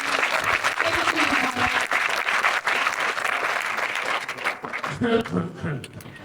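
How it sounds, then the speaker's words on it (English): Applause from a conference audience at a luxury hospitality networking event in Madeira, loud continuous clapping mixed with crowd noise and some voices, thinning toward the end as tonal sounds and talk emerge. "let's give them a round of applause"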